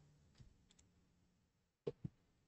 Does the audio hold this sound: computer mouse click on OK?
yes